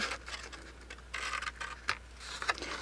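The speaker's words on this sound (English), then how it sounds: "I kind of like the sound of scissors cutting through paper." Scissors snip through paper in a row of soft, close, crisp cuts with short pauses between them, quiet and without talk, during paper puppet crafting.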